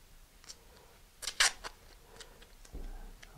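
A piece of tape is handled while a Stratus Gale 13 model is prepared for flight: soft crinkles and rustles, then a cluster of sharp, brighter tearing and snapping sounds in the middle, followed by a low thump.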